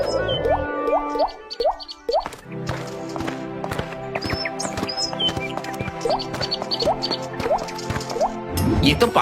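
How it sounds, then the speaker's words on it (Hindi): Water drops fall in a cartoon scene, a run of bright plopping drips with squishy splashes, close and steady over a background of soft music-like tones. "ये तो पानी की बूंदे हैं"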